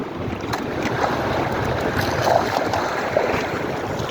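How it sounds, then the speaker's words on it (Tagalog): Rough sea and strong wind around a small fishing boat in bad weather, a loud, dense, continuous rush of wind and churning water close by, steady throughout with no voices. "Bad weather guys, maalo sa kamangin."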